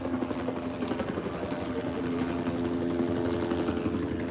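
Police helicopter flying overhead at the scene of a shooting at a Fred Meyer store in Richland, Washington, a steady loud rotor drone filling the whole stretch with no talking.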